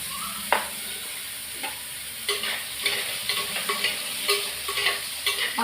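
Brinjal frying in hot oil for a brinjal kulambu, a steady close sizzle with repeated sharp scrapes and clacks of a spatula stirring the pan.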